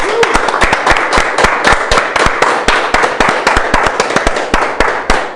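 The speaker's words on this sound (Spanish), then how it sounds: "Un aplauso, Señor." A church congregation bursts into applause during a Spanish-language service, dense steady clapping from many hands that stays loud and continuous throughout, with sharp individual claps standing out near the front.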